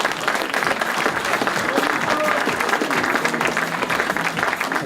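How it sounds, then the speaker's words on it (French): An audience applauds at a car rally podium ceremony, a dense, sustained wash of clapping with a voice faintly audible underneath. "Et les applaudissements du public."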